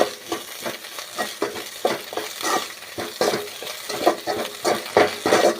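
Egg podimas being stirred in a frying pan, a utensil scraping in a steady rhythm through the loud, continuous sizzle of frying, close and clear with no talk.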